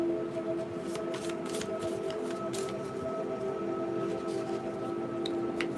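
Tarot cards are shuffled and pulled from a deck in quick papery riffles and flicks, close to the listener, over a steady background tone.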